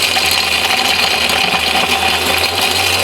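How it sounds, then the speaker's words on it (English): Ryobi handheld angle grinder driving a Mighty Mill ore crusher loaded with electronic connectors, a steady loud motor drone with grinding rattle and clatter throughout, no voices. "this Ryobi handheld angle grinder I'm driving the Mighty Mill with"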